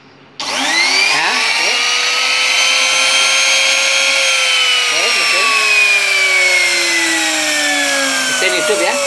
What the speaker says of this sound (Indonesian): Mesin hidup ya. Ini adalah bukti bahwa mesin kita hidup.